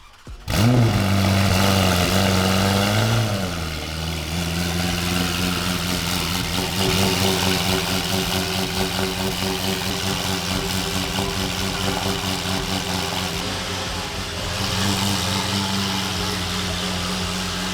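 A Ferrari 488 engine with full exhaust starts with a sharp blip and rev, then settles into a deep, throaty idle that rumbles steadily and close by.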